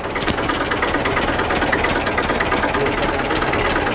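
A restored tractor with a chain-drive engine runs at a workshop in Ludhiana, Punjab, chugging loud and close with a fast, even knocking beat and no talk over it.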